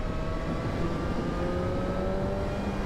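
BMW S1000RR sportbike riding past in sixth gear, a steady loud engine drone with tonal harmonics holding constant for about three seconds, no talk.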